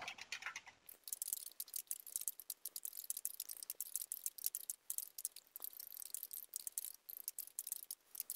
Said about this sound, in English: I don't want you to just see me typing here, sit and type